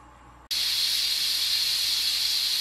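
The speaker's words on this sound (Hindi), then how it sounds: "जब प्रेशर कुकर की इस स्थिति की आवाज आती है" A pressure cooker cooking cauliflower with lamb bursts into a loud, sustained steam hiss after half a second of quiet, then holds steady and close.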